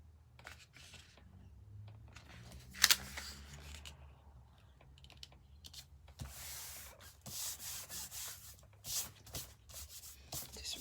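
Rubbing and burnishing on a paper craft project, a hand rubbing excess adhesive off a vintage chic layout in a close, quiet scratchy series of strokes with a few sharper scrapes and no talking.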